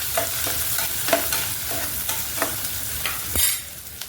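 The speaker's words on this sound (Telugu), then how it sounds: "కొంచెం కరివేపాకు, ఇదిగోండి ఉల్లిగడ్డలు వేసేసుకోవాలి. దీన్ని కొంచెం దూరగా వేయించుకున్నాం." Chopped onions fry with curry leaves in a hot pan, giving a steady sizzle broken by repeated scraping stirs of a spoon, close and fairly loud with no voices.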